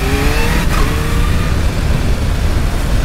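A Kawasaki H2 motorcycle engine warming up, revving steadily and loudly at close range, with a brief rising rev early on before settling into a continuous, even roar.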